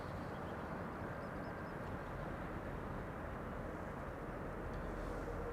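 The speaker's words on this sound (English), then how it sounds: "I do see that there is a Dreamliner now coming to the runway we're still standing next to." A Boeing 787 Dreamliner wide-body airliner landing on a nearby runway at Amsterdam Schiphol, heard as a steady, loud low roar of jet engines that fills the whole stretch without breaks.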